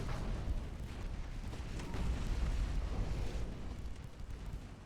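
Rumbling, booming blasts as torpedoes strike a warship in the naval battle game Ultimate Admiral Dreadnoughts, a dense continuous roar swelling slightly midway, with no talk.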